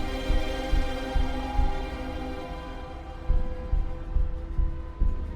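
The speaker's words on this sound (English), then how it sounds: "I kind of like feeling of that bit of music that feels like a heartbeat" Background music with a slow heartbeat-like pulse, low soft thumps in a regular rhythm under a sustained tonal hum, fairly loud and without voices.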